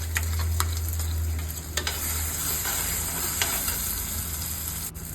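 Ground masala paste fries with shallots and curry leaves in coconut oil for a fish curry, a loud, continuous close sizzle with a few sharp clinks of stirring utensils and no speech.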